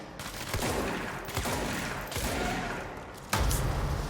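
Rapid gunfire from the video game Control comes as sustained, dense bursts of shots with a sharp, louder volley near the end, loud and close with no talking.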